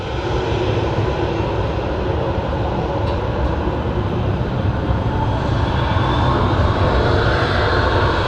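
An airliner at Manchester Airport gives off a loud, continuous engine roar close by, broad and steady throughout, with no voices.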